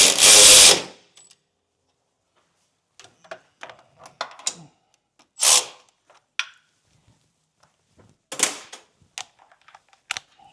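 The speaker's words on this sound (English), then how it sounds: "ratchet to zip these down." A ratchet tightens bolts on a first-generation Toyota Tacoma steering rack, with rapid clicking bursts between short pauses and a few louder clanks.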